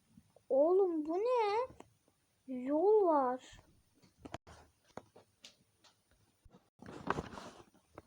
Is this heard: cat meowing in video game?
yes